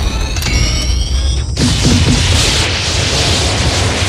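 Toy proton gun effect from a 1987 Kenner Real Ghostbusters Firehouse playset: a loud electronic whine gives way to a crackling, booming blast burst that stays dense and harsh until the end.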